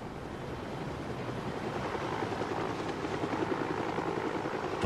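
A helicopter carrying a patient on a flight to a trauma unit gives a loud, steady roar of rotor and engine noise that lasts the whole time, with no voices.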